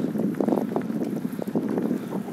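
Moderate wind blowing outdoors during a warm day out on a roughly 30 km route, a steady broad rushing with gusty buffeting against the microphone, no voices.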